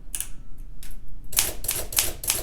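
Keys on an Olympia SM7 typewriter awaiting restoration, struck as a few scattered clacks and then four quick, even, crisp strikes in a row, close and clear in a quiet room.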